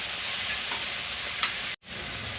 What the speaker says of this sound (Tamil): ஒரு கைப்பிடி அளவு சோயா சேர்த்துக்கிறேன், வதக்கிடுவோம்.